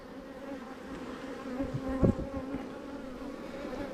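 Honey bees drone in a hive opened for inspection, a steady low buzz with a brief louder swell near the middle, close and continuous without speech.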